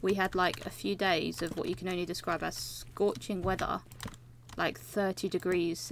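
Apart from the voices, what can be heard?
No everyday noise stands out behind the speech.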